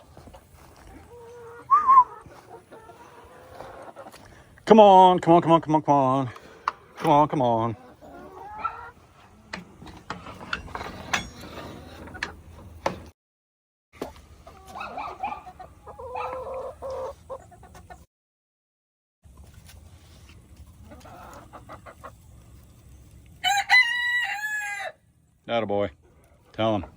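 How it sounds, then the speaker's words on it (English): Chickens cluck and a rooster crows nearby, with a voice repeatedly calling over the birds. "Chickens!"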